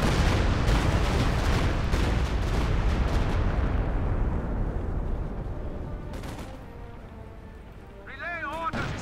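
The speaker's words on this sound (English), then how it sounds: "Another Stukas Fuß barrage." A Stuka zu Fuss rocket artillery barrage in Company of Heroes 2, a loud rolling wall of explosions that thunders for several seconds and then thins out, with brief game voice lines at the end.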